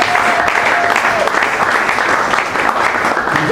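A church congregation claps steadily throughout, a dense, loud wash of applause, with voices and a faint sustained tone mixed underneath.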